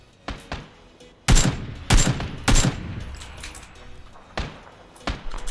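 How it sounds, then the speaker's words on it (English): Gunfire in the battle game PUBG: a few sharp, loud shots spaced about half a second apart, followed by fainter distant pops, with no talk. "Sounds like they were shooting him as well."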